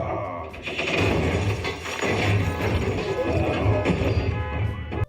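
A giant robot smashes a car in Transformers: Rise of the Beasts, heard as loud, continuous metallic crashing and grinding with gunfire-like impacts and mechanical clatter, dense and close throughout.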